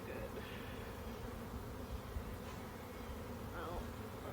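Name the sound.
honeybees buzzing during hive inspection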